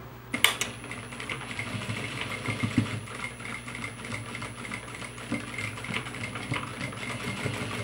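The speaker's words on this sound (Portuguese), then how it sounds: "Passo uma costura devagar, visto que tem muitas camadas aí." A sewing machine slowly stitching through several layers of bag fabric, giving a steady, soft mechanical whir with rhythmic needle ticking and one sharper click near the start.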